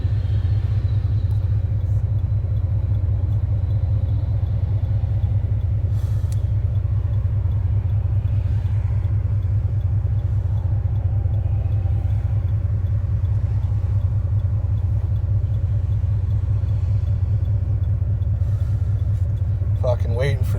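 A 1995 Dodge Ram V8 pickup with a Thrush welded exhaust and a damaged, faulty pipe cruises on the highway, giving a loud, steady low-pitched engine and exhaust drone that holds without a break throughout.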